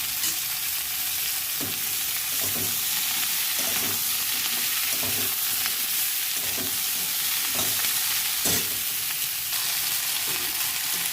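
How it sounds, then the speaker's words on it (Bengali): Potato and bitter gourd fry steadily in hot oil in a pan, a continuous close sizzle with periodic stirring scrapes and clinks at a slow, regular rhythm, no talking. "এবারে আমি এখানে আলু করলাটা ভেজে নেব।"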